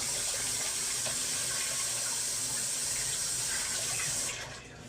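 A tap runs steadily into a sink, a loud continuous hiss of flowing water that cuts off near the end.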